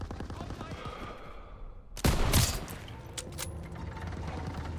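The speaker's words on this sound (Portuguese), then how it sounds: "Daniels, atire nas caixas de munição perto das PEC-38" Gunfire in the WWII shooter Call of Duty WWII: a sudden loud burst of rapid shots erupts mid-clip over a busy battlefield din, then a few scattered sharper reports follow, with faint voices underneath.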